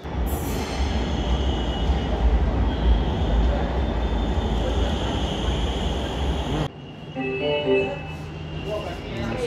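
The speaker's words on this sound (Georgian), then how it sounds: "ნახოთ როგორი მეტრო აქვს აგრას." An Agra Metro subway train runs with a loud, steady rumble of wheels and carriage noise. Partway through, the roar drops abruptly and an announcement-like tone pattern follows, with brief talk over the background.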